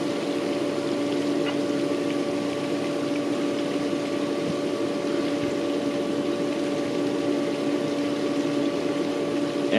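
An Intex 3000 GPH sand filter pump runs in backwash mode, giving a steady, continuous hum with a constant tonal whine over a watery wash, loud and unchanging throughout with no talk.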